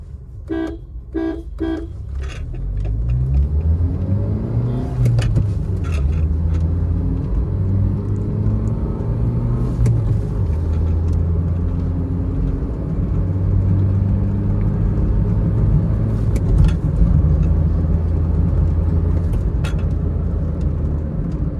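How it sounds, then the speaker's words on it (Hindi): Two CNG cars, a Swift and a Wagon R, run side by side in a 2025 drag race, engines rising from low revving into a loud, sustained roar that climbs through gears, with a few short honks at the start. "हम अपनी गाड़ी पहले नॉर्मल 10 की स्पीड पे चलाएंगे और फिर एकदम पिकअप देंगे"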